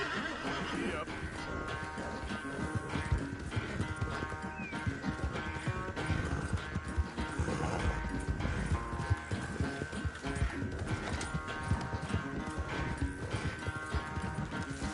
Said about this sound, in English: Rockstar really failed on the horse riding in this game